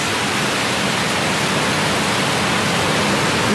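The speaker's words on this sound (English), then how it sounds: "it's not going to stop the water rushing into the room" Water rushes into a hydroelectric turbine room as the wicket gates close, a loud, steady broadband roar that holds constant throughout with no pauses or talk.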